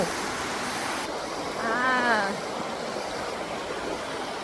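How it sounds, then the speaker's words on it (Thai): Steady broadband rush of water at Ton Phrao waterfall in Krabi, Thailand, flowing and falling nearby, continuous throughout, with a brief voice-like murmur rising over it midway. "บรรยากาศน้ำตกโตนเท้า"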